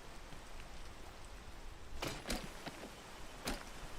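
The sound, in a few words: rain falling in the video game Peak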